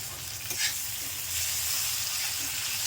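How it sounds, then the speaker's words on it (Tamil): Onions, tomatoes and mixed vegetables sautéing in a pan for vegetable rava upma: a steady, close hiss and sizzle of frying with faint stirring, no voices. "நல்லா வதக்கணும். தக்காளியும் நல்லா வதக்கிட்டு"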